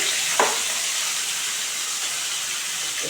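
Salted, turmeric-rubbed whole puti fish frying in hot oil in a pan, a steady close hiss and sizzle throughout, with a brief louder spatter early on as the fish go in.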